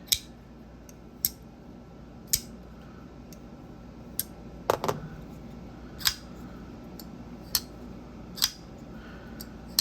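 Folding knife blade clacking open and shut, a tight-clipped knife snapping in sharp, crisp clicks roughly every second, about nine or ten distinct clacks close up over a quiet background.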